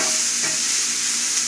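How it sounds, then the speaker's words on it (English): Onions and garlic sizzle steadily in melted butter in a pan over a high flame, a close, even frying hiss with a soft stirring scrape partway through. "right now we're just gonna add the onions and garlic in."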